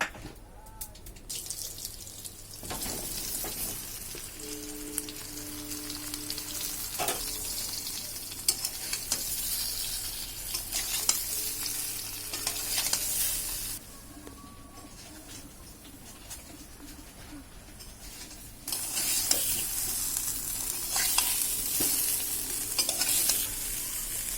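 Raw mango pieces, salted, turmeric-coated and sun-dried, frying in mustard oil with panch phoron in a kadai, giving a steady close sizzle with stirring scrapes throughout, the frying noise swelling louder toward the end.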